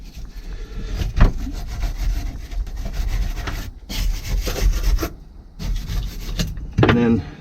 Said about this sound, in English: wire brush them down. so that my socket will fit on there.